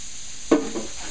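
Onion and celery drop into melted butter in a pan with a brief soft clatter, then settle into a faint, steady sizzle.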